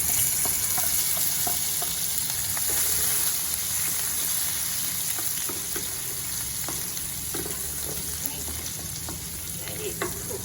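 Dried shrimps fry in about three tablespoons of hot oil over a medium flame, giving a continuous close sizzle broken by small crackles and faint stirring sounds, with no talking.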